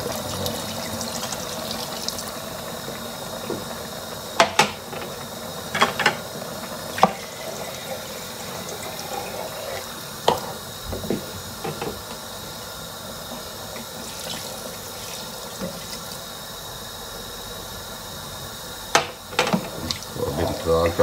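Water runs and pours steadily into a cooking pot, about four cups for a tomato soup, a continuous splashing stream with a few brief clatters of the pot.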